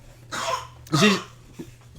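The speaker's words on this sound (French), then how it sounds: "C'est la position qui fait qu'elle tousse comme ça." A single harsh cough bursts out, followed by a second rougher, throaty cough and a faint breath after, close by with no talking.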